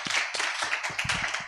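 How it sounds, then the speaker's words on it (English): Brief applause from a summit audience as panelists take the stage, a handful of distinct, uneven claps close by with gaps between bursts, short and fairly sparse. "A round of applause again as we take the stage."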